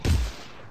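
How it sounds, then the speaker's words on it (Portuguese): A single sharp pistol shot from the LEGO Batman 3 video game cracks once, close and loud, then fades quickly into a short tail. "Também tem uma pistolinha que dá uns tiros."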